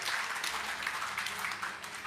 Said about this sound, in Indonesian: Kita tepuk tangan buat Kang Iip dan kita semua